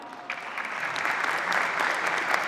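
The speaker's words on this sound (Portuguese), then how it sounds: "Uma salva de palmas também." A conference audience at a Banco Safra and Fundação Getúlio Vargas event breaks into dense, steady applause, a continuous crowd of clapping hands heard alone, no voice on top.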